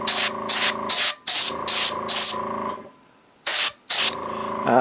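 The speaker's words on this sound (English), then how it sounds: "my air compressor is set at 40 psi, so it's about where I airbrush at as well" An airbrush sprays paint on a miniature using an air compressor set to 40 psi. It makes a series of short, close hissing bursts with a longer gap partway through, and no voices.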